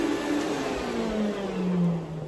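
A household vacuum cleaner runs continuously during house cleaning, a steady close whine whose pitch sags slightly and then rises again, with no voices.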